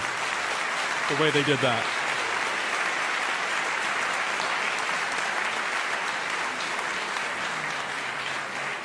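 An audience at a talk-and-question session applauds in a steady, continuous wash of clapping that lasts throughout, with a voice speaking briefly over it near the start.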